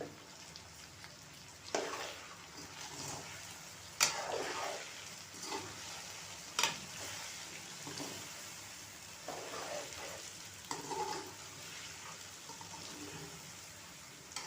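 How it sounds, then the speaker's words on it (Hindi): Masala with vegetables and chicken fries in a pan for junglee pulao, giving a faint, steady sizzle broken by several soft stirring scrapes spaced through the clip. "मसाले को अच्छी तरह फ्राई करना है ताकि सब्जियों का और चिकन का जायका जो है ना मसाले में अच्छे से आ जाए"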